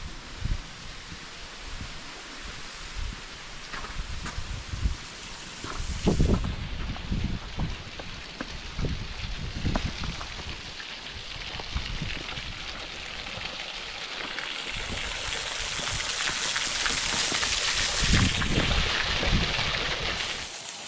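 Rushing water from the Glen Vale waterfalls and stream in the Scottish hills: a steady broadband wash that swells louder toward the end, with scattered splashes and gusty texture, no voices.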